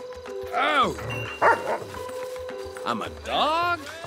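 A dog barks and yips in Grand Theft Auto V, with several short barks in a row alongside game sounds and a speaking voice.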